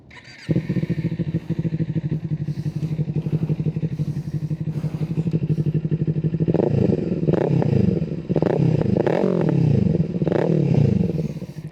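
Kawasaki Eliminator 450 motorcycle engine starting on a warm engine, catching after a brief crank and settling into a steady, close idle, then a series of loud throttle blips toward the end.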